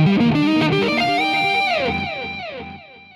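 A melodic music passage washed in heavy reverb, notes ringing out and smearing into a long decaying tail as the sound fades.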